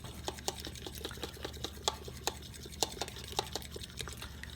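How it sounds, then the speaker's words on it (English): An egg being whisked in a bowl for homemade flatbread dough, a steady run of quick, light tapping clicks as the whisk strikes the sides, close and fairly quiet over a low background hum. "I want to whisk up my egg a little bit"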